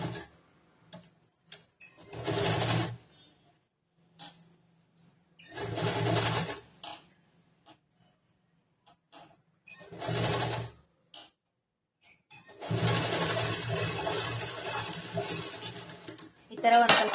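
A sewing machine stitches a boat-neck blouse in loud, steady whirring bursts, four or five runs separated by pauses, the last one longer, close by with occasional small clicks in between.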